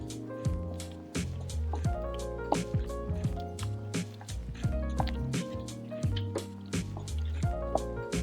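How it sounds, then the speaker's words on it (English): Shrimp and their juices poured into a creamy Alfredo sauce in a pan, a continuous close wet squishing and dripping with rhythmic utensil clinks as everything is stirred together. "now we're gonna add in that shrimp and all those gorgeous juices and flavors combined to perfection"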